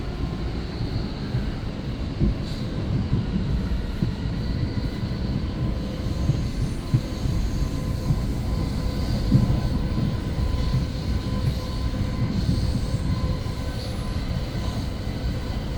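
Steady rumbling roar of an Exo commuter train rolling along the rails between Dorval and Lucien-L'Allier stations in Montreal, heard from inside the car, continuous and fairly loud with faint rhythmic clacks.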